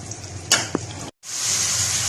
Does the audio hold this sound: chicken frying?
yes